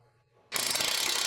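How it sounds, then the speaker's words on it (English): A 15mm impact wrench tightens coilover toe adjustment arm bolts on a 2013-2020 Ford Fusion, a sudden loud continuous rattling hammer burst starting after a half-second of quiet and running to the end, with no talk. "use the 15mm impact to tighten the toe adjustment arm"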